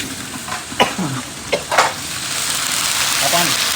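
Spices and white sesame seeds are tempered in hot oil along with green chillies and ginger, sizzling steadily with a few sharp crackles and stirring clatters, close and fairly loud.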